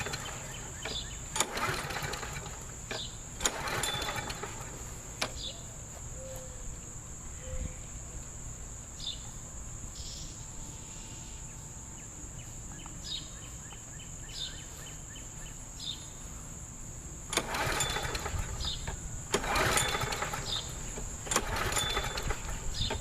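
A 1999 Murray thrift-store lawn mower engine being cranked, short bursts of sputtering pulls that fail to catch, separated by quieter gaps with a steady high insect-like whine outdoors.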